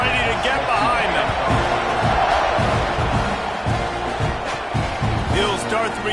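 A football stadium crowd at a Texas A&M game roars and cheers before the kickoff, a loud, continuous wash of voices with scattered whoops, under a commentator's voice.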